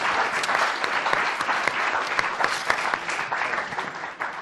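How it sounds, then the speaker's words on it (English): Loud, dense audience applause rolls continuously through a lecture hall, many hands clapping at once with occasional sharper claps standing out near the listener. "Let's give a round of applause."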